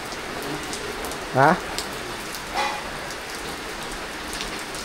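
Steady rain patters on a surface at a home, a constant soft wash throughout, with a brief spoken interjection and another faint voice in the background.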